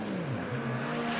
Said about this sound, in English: that angry four-cylinder sound from the 3RZs in the Corona.